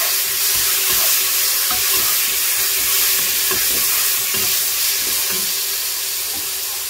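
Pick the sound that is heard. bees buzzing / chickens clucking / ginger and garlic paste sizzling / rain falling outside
ginger and garlic paste sizzling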